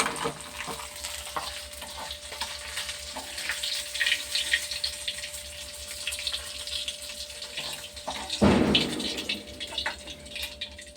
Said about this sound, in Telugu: మిరగాయలు అయితే వేగుతున్నాయండి, తీసేస్తాము.